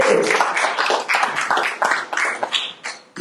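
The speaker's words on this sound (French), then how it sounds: "Je vais me laisser applaudir, j'aime ça." An audience at a religious talk breaks into a burst of applause, dense irregular clapping that rises and falls over a few seconds with no voice on top.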